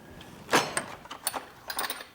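A tool box drawer full of wrenches slides open with a sharp scrape and a run of light metallic clatters and knocks, close and fairly loud, with no talking.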